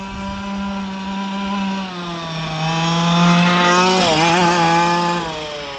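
A petrol engine on an FG Camtar radio-controlled car runs at a steady buzzing drone, close and loud, with the pitch dipping and then rising as the throttle changes near the end.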